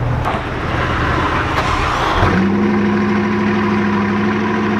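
A Bugatti Chiron's engine running, first a rough, broadband rumble, then settling into a steady low idle hum with a clear tonal drone, close and loud.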